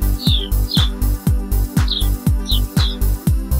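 A blue jay calls in a rapid series of about eight loud, close, harsh notes at a regular pace, each one sharp and ringing, with no other sounds.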